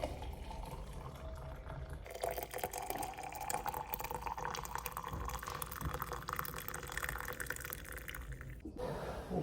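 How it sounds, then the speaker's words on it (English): Water runs into a pot of ginger, cinnamon and hawthorn, a steady close trickle and splash that rises in pitch as the vessel fills and then stops abruptly near the end. "I'm just gonna add more water so while I'm gone it soaks"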